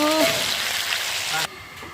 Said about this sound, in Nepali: यसरी भुट्दैछु लोकल भालेको मासु।